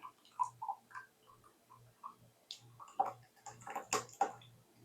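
Hot Campbell's spicy tomato soup pours from a pot into a bowl with soft, wet glugs and splats that grow busier toward the end, quiet and close.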